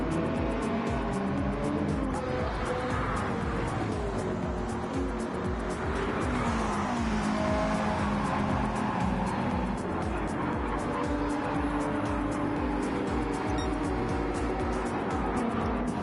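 Gr.3 race cars lapping the Red Bull Ring in Gran Turismo 7, engines droning loud and continuous with shifting pitch as cars run in a close pack, tires occasionally squealing.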